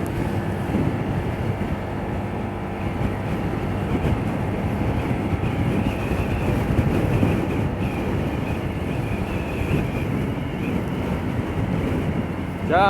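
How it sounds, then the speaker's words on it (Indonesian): Strong wind roars in a continuous, loud rush of buffeting across a microphone on a pine forest mountain road near Malino, with a low engine-like rumble underneath. "Bener anginnya kencang sekali nih."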